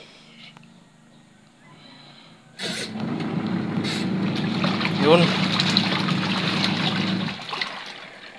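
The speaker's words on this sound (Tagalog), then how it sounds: "pero yung tunog ng washing ay parang hindi siya kalakasan" A washing machine powered through a solar power converter churns with a steady low rumble and sloshing water, starting abruptly after a quiet stretch, with a voice speaking softly near the start.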